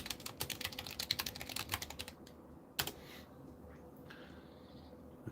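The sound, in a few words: typing on a computer keyboard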